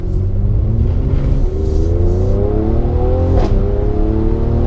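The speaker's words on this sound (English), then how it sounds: "Let's just accelerate out of here, see if we can get some exhaust sounds." A 2018 Mercedes-AMG C43 Coupe 4Matic accelerates hard, its engine note climbing steadily through the revs as a loud, close exhaust roar drones on, with no voices heard.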